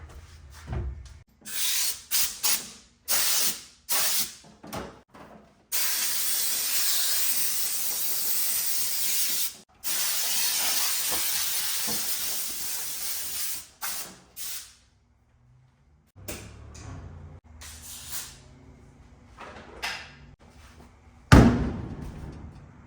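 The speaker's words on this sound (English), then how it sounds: "Maybe we'll take the air compressor and blow it out real fast." Air compressor nozzle blowing out the cab of a 1977 Chevy C20 service truck during carpet work, loud sustained hissing blasts in long bursts with short gaps and a few clunks, no talking.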